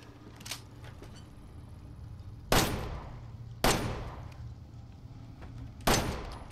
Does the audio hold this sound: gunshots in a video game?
yes